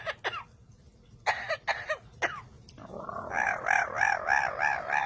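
A pet parrot mimics human coughing with several sharp, separate cough bursts, then breaks into a softer warbling call, close and fairly quiet.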